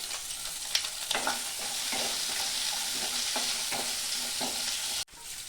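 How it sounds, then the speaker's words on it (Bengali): Chopped onion and capsicum frying in a pan for kadai paneer, a steady close sizzle with repeated spatula scrapes and stirring strokes, no voices. "পেঁয়াজ ক্যাপসিকামটা আমার একটু ভাজা হয়ে গেছে, বেশি ভাজি নাই, নামিয়ে দিব।"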